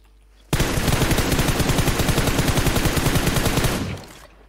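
Rapid automatic gunfire in a video game, a single loud continuous burst of closely spaced shots lasting about three and a half seconds, then cutting off abruptly.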